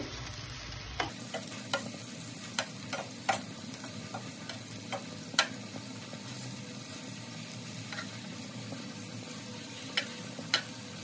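Bele fish fritters wrapped in pumpkin leaves fry in a pan with a steady close sizzle, scattered pops and crackles recurring through, after a brief opening burst.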